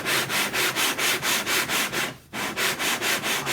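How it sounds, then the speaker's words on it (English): A hand plane works the wood of a guitar mold in quick, even rasping strokes, repeating steadily with a short pause partway through, close and alone. "I've been slowly planing a little bit away and re-chalking and planing a little more away"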